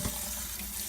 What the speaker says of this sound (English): you're gonna want to run water in them